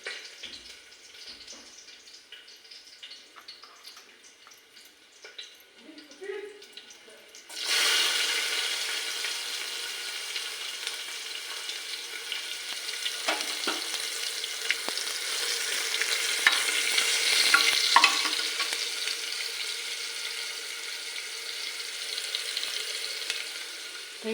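Garlic frying in a pan for Marathi eggplant bharit: a few quiet kitchen clinks, then a sudden bright sizzle that starts about a third of the way in and keeps crackling steadily, briefly growing louder near the end.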